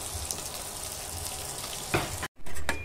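Rice frying in oil with salt and a dried chili, a steady close sizzle with a few stirring scrapes, then a brief drop to silence before the frying resumes louder.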